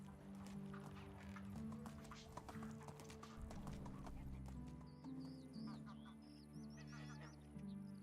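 Hooves clip-clop at a steady pace as a horse is ridden in the video game Medieval Dynasty. Faint game music plays underneath, and someone talks throughout.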